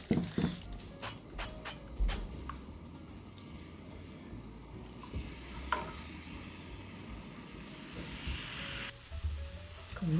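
Burdock jeon pancakes sizzle quietly in an oiled pan, a soft steady crackle of frying broken by a few utensil taps and clicks early on and light scraping and stirring later.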